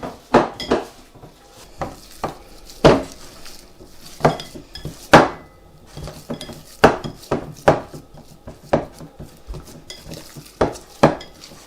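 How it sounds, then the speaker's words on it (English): Scotch egg ingredients being mixed in a bowl give uneven, close clinks and scrapes of a utensil against the bowl, sharp knocks separated by softer stirring, with no talking. "I'm going to mix them all together"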